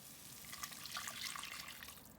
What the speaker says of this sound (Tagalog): At lalagyan ko na po ng tubig.